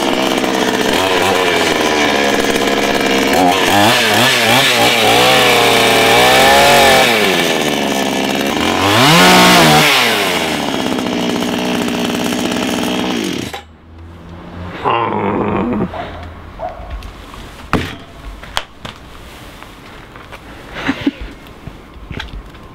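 A chainsaw slices a sandwich, roaring loud and close with rising and falling revs for about thirteen seconds, then cuts out. Scattered clatter and small knocks follow.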